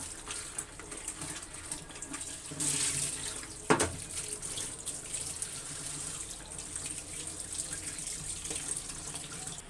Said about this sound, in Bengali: সজনে ডাঁটাগুলি এবার আমি ভালো করে ধুয়ে নিচ্ছি।